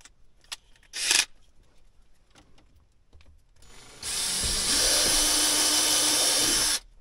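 An electric drill bores through a Land Rover LR4 dash panel, with a few short taps and clicks and a brief burst before a sustained whining drill run of nearly three seconds, close and fairly loud.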